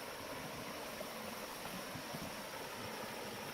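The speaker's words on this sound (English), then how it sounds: "And here's the creek." Otter Creek flowing beneath a bridge near a campground on the Blue Ridge Parkway, a steady broadband wash of running water, fairly faint and continuous with no talk.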